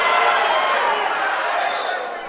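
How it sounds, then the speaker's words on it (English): Basketball crowd in a gym at a girls' high school game reacting to a foul call, a steady broad wash of murmuring and voices that fades slightly toward the end. "And the crowd doesn't quite agree with that call."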